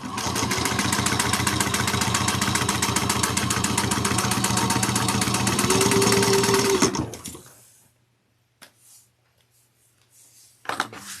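A sewing machine stitches a bag in a fast, loud, even mechanical rattle for about seven seconds, then stops. Quiet handling noises follow, and a brief burst of stitching returns at the very end.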